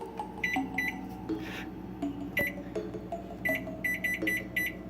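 A microwave oven beeps several times in short repeated bursts after heating, clear and close over a low steady hum in a kitchen, with no voices.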